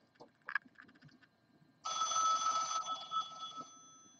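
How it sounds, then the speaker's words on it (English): An electronic telephone ringtone sounds at moderate distance for roughly two seconds, a steady bright warble heard behind faint background handling noise during a basketball card box opening. "Sorry about the phone."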